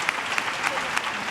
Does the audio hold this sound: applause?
yes